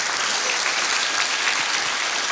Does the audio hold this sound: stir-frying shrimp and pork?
no